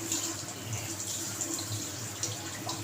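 Water sprays steadily from a tap while parts of an LG water purifier are rinsed clean of dirt, a continuous close hiss with a low hum underneath and no speech.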